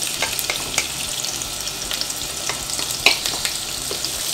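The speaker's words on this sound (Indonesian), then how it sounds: "Ini saya mau menggoreng dulu terinya ya teman-teman ya." Anchovies (teri) frying in a pan for a cabbage scramble dish, a steady bright sizzle with occasional crackles and pops, close and fairly loud, no talking.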